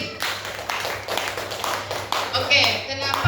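A group claps for Bu Dewi, a participant in an Indonesian teacher training session on positive classroom culture. The clapping is busy and steady, mixed with voices talking over it.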